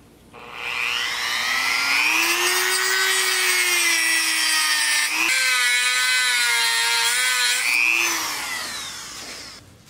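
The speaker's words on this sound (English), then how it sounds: "which I think I can use the Dremel for that also" A Dremel rotary tool modifies a part during a Jin Lun 50cc scooter revival: a loud, steady high-pitched whine with a rising and falling pitch runs nearly ten seconds, with a brief dip in the middle.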